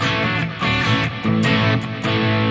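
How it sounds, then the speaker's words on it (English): Clean electric guitar through a Harley Benton DnaFx Git Pro amp model, strings picked softly in a short run of plucked notes and chords, close and steady with no talking. "then you have a clean tone."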